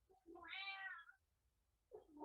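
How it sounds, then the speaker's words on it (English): An indoor cat gives a clear, drawn-out meow, quiet and close, followed after a pause by the start of a second meow. "we have our Zen master cat in the house with us"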